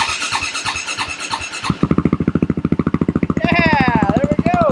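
A KTM motorcycle started on the electric button: a quick whirring crank, then the engine catches into a loud, close, steady thumping idle, with a person talking over it.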